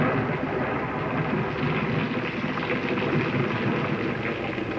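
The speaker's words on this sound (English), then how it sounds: "Oh, it's pouring here now." Heavy rain pouring down outdoors, a dense, steady broadband wash with no voices over it, holding at a constant loud level throughout.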